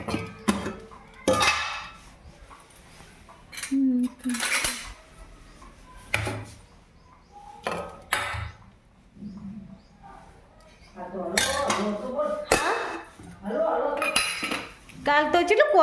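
A spoon clinks and scrapes against dishes in a home kitchen in sharp, irregular bursts with quiet gaps between them. Someone talks intermittently nearby.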